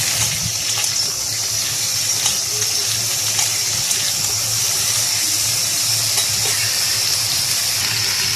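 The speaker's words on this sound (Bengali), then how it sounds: "সবজিগুলোকে এখন ভালোভাবে নেড়ে নেব" Vegetables for a prawn tamarind curry being stirred in a hot pan: a loud, steady sizzle runs throughout, with light scraping and clicking strokes scattered across it and no voices.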